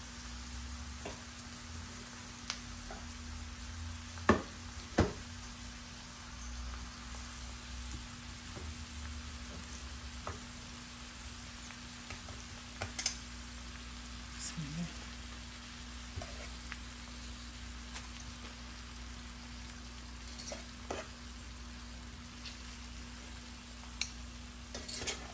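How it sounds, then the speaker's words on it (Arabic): Meat browning in an onion and sauce mixture in a tagine, a faint steady sizzle with occasional soft clicks and knocks of a utensil, close and quiet, no voices. "من بعد نضيف اللحم في المخلوط باش هو يتحمل من الجهة الأولى والثانية"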